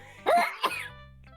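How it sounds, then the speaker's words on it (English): A person sneezes indoors while playing a computer game, giving two sharp, close bursts a fraction of a second apart, then quiet. "Oh, you're sneezing."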